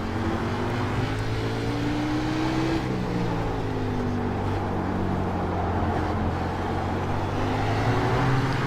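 Xfinity race car engine lapping Laguna Seca in a racing video game, a continuous droning engine note that rises and falls in pitch through gear changes, steady and close, with no talk.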